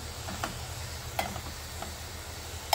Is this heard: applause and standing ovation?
no